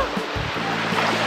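A river with waterfalls on Crete rushes in a steady, close wash of flowing water for a brief moment as people wade through it.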